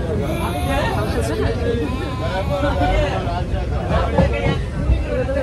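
Crowded local train bound for Sealdah, with a dense babble of many passengers chatting under the rumble of the moving carriage.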